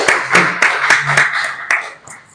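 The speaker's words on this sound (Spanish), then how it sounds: "Un aplauso para nuestros dos ponentes." An audience clapping for two speakers at a lecture and debate event, a brief, sparse burst of separate hand claps that thins out and fades within a couple of seconds.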